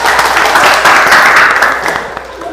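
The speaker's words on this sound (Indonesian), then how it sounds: "Oke, tepuk tangan." A classroom of students claps their hands in loud, dense applause. The clapping runs continuously and fades slightly near the end.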